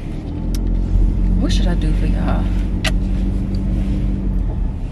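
A very large rental truck drives along with a steady, loud engine rumble and road drone, heard from inside the cab while a person talks over it.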